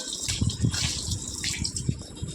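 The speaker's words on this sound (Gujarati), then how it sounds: "ઉપરના જે ટાંકા ને એ બધા ઉભરાય છે, બે ટાંકા ઉભરાય છે ઉપરના." Water overflows from two rooftop tanks, pouring and splashing in a steady, close gush with small irregular surges and no voices.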